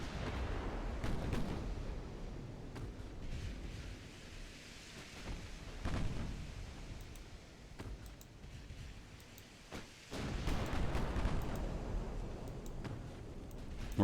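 Naval guns firing on transports in Ultimate Admiral: Dreadnoughts, a series of deep booming reports rolling like distant thunder over a low rumbling background, spaced every few seconds and moderately faint.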